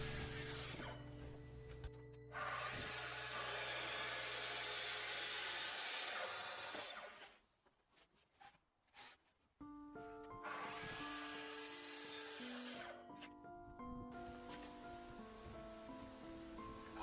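A track saw cuts angled plywood roof pieces on a bench in two long passes, each a loud whining blade roar lasting several seconds, separated by a short quiet gap with small clicks and handling knocks.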